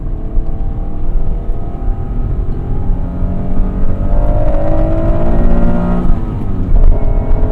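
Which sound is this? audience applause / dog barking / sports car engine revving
sports car engine revving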